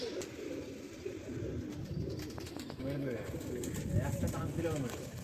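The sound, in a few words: pigeon cooing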